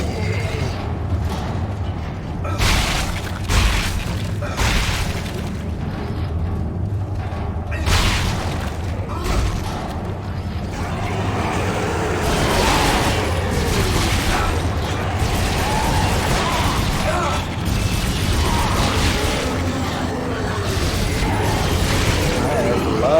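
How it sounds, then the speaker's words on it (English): Rapid bursts of pulse rifle fire in Dead Space 2, clattering mechanical shots over a low ambient rumble, with a voice talking over the gunfire. "Good usage of the pulse rifle."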